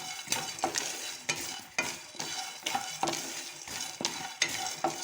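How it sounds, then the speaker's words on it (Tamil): Small coconut pieces frying in a pan over a slow flame, a close, steady sizzle with rhythmic scraping stirs roughly every half second, no voices. "ரெண்டு நிமிஷம் தேங்காவை நல்லா வறுத்தாச்சு"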